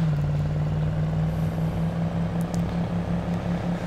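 A car engine in the zombie survival game State of Decay idles and drones loudly and steadily, a low, rough hum lasting throughout with a few faint high clicks.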